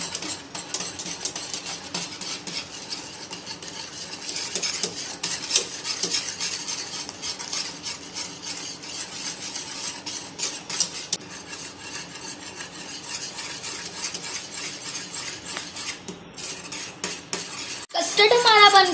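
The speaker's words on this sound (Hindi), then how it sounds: "अब हम इसके अंदर कस्टर्ड का पेस्ट थोड़ा थोड़ा करके ऐड करेंगे और इसको हम मिक्स करते जाएंगे" Custard paste being stirred little by little into boiling milk in a pot, a steady scraping and swishing of a spoon against the pan running throughout, close and continuous, with a louder clatter near the end.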